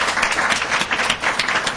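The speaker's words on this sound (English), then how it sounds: "another round of applause for Blaise for coming out" An audience gives another round of applause for Blaise Hazelwood at a breakfast club gathering, dense and steady clapping that fills the short moment without any voices.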